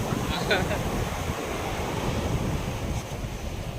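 Ocean surf rolling onto a sandy beach where baby sea turtles are released, a steady broad wash of waves with wind noise buffeting the microphone throughout, no voices.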